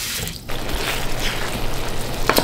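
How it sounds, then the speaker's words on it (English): Water is poured into a pot of cheesy Samyang noodles, a loud close rushing splash that starts abruptly and keeps going, with a faint clatter at the end. "I'm about to put some more water in it."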